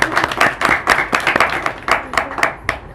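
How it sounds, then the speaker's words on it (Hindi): Applause from a small audience at an Eid gift and clothes distribution event, honouring a guest: bursts of sharp, close hand claps in an uneven rhythm, fairly loud and without talk. "तो एक बार फिर तालियां हो जाएं राहिमा अदनान के लिए।"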